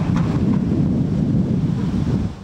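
Strong wind and big waves along the Manila shore near Baseco: a steady, dense roar of gusting air and surf that stays loud and unbroken throughout, with no voices.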